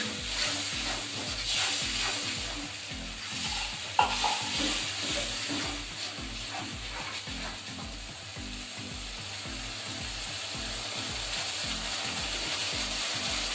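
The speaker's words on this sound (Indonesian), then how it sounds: "Tumis bumbu sampai matang ya bun." Spice paste for a salted-fish balado sautéing in a hot pan, a steady loud sizzle broken by repeated rhythmic scraping and stirring strokes, a sharp clack partway through, with no voices.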